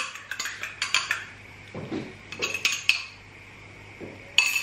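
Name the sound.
egg being cooked in a pan, utensils clinking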